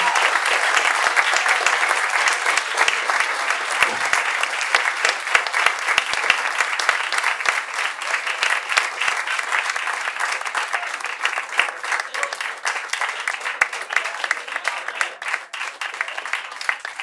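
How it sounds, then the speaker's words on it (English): Audience at a live show at City Winery in New York giving its guests a big round of applause, dense sustained clapping with scattered cheers filling the room for a long stretch. "Big round of applause for our guests tonight."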